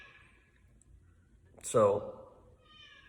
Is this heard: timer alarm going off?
no